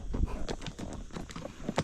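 A horse walks uphill on a steep mountain trail in Mallorca's Serra de Tramuntana, its hooves clopping in an uneven, close rhythm over loose ground, with a few louder strikes.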